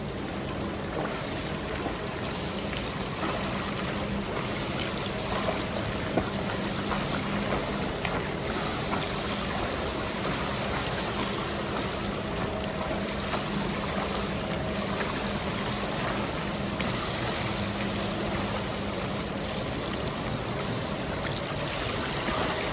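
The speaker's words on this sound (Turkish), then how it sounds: "Bir kez daha göstereyim serbest yüzmeyi." Continuous splashing and churning water from freestyle swimming in a pool, a steady rushing wash with rhythmic stroke surges lasting throughout, loud and close with no speech.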